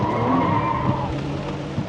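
Loud tire squeal from a car skidding through a drift on a rain-wet surface, a continuous screeching wail over a steady engine roar, close and sustained.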